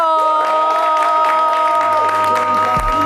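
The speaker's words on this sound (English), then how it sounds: "With a huge round of applause, let's welcome Fafa Gozo!" Audience applause and cheering welcoming a guest onto a show, loud continuous clapping mixed with crowd shouts and a bright sustained musical tone underneath.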